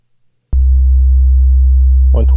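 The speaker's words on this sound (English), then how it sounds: "So here's the sine wave." A steady, loud sine tone from a vintage audio oscillator starts abruptly after a brief silence and holds evenly for about two seconds, with a voice beginning to talk over it near the end.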